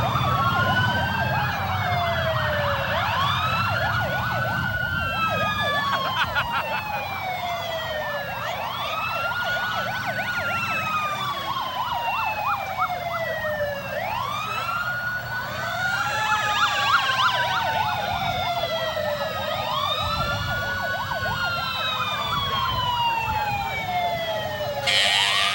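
A police car siren from a Memorial Day parade wails in loud, continuous rising and falling sweeps, close by, alongside a motorcycle escort.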